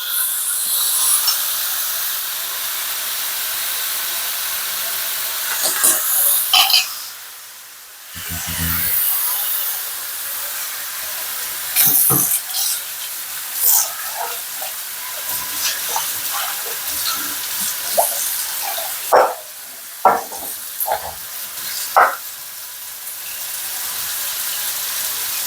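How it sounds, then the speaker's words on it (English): Water tossed into a hot pan with a glaze, sizzling and steaming in a continuous loud hiss, broken by a brief quieter gap and several sharp crackles and pops. "Toss a little bit of water in there just to keep that glaze from burning."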